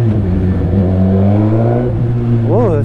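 Suzuki GSX-S1000 motorcycle fitted with a Two Brothers exhaust, engine droning low and steady before a short throttle blip rises and falls near the end, close and loud.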